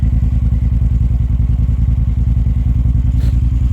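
Triumph Bonneville Bobber motorcycle idling on a stand with the rear tire spun up, a loud, close, steady chugging engine pulse with a rapid even beat and faint mechanical clatter.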